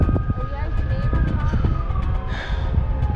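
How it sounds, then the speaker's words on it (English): Emergency sirens wail steadily in the distance at Newquay Harbour, UK, rising and falling beneath continuous traffic rumble and nearby movement. "Ambulance is here. There's sirens."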